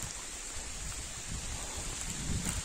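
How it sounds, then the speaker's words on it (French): Heavy rain pours down during a thunderstorm at a carp-fishing spot, a steady dense hiss close by that builds slightly toward the end, with no talk. "Là je suis sous un déluge de pluie."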